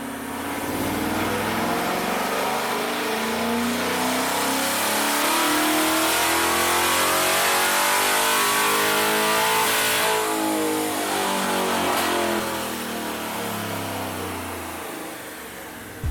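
A C8 Corvette on a chassis dyno running 93 octane roars loud and close through a long sustained pull, engine revving steadily higher before easing off near the end, no voices.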